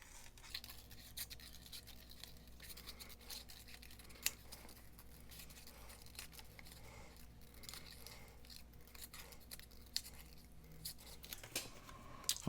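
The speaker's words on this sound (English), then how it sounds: "I'm just going to do some quick cutting" Scissors make quick cuts in fabric during a sewing project, with light, close snips coming at uneven intervals in a quiet room.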